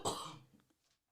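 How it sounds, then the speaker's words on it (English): A single raspy cough close by, a short harsh burst that quickly trails off into quiet. "Forgive me. Cough."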